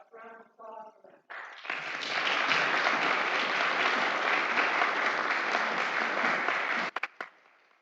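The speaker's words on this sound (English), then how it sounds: "I thought a round of applause for them." A room of members at a genealogical and historical society's annual meeting breaks into sustained applause for the officers, steady and full for about five seconds before tapering off, with a brief voice heard just before it starts.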